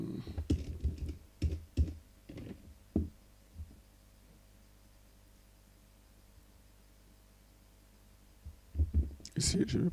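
Keys are tapped on a computer keyboard while a school admission flyer is made in MS Word, a burst of close clicks at the start, a quiet pause, then more typing near the end.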